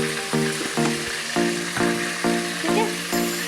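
Chicken pieces frying in a hot pan, a loud continuous sizzle broken by rhythmic stirring scrapes about every half second, close up with no talk.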